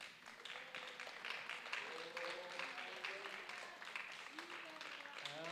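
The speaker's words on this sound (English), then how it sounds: "Give the Lord a good hand clap of praise to you." Steady hand clapping from a church congregation praising at an evening service, with voices talking and calling out over it throughout.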